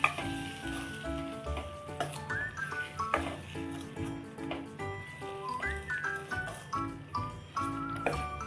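Cooked dal being stirred into fenugreek greens in a pan, with a steady sizzle and repeated scraping strokes of a spoon, under quiet background music.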